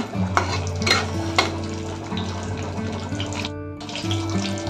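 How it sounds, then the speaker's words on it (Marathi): Whole spices stirred in a cooking pot for a chicken dish, with repeated scraping strokes over a steady background hum and a faint watery hiss, close and moderately loud, no talking. "खडा मसाला टाकते. ढवळून घ्यायचं."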